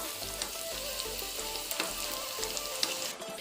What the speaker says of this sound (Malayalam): ഞാനൊരു ചെറിയ സവാള മൂപ്പിച്ച് കൊടുക്കുന്നുണ്ട്. എണ്ണയിലാണ്.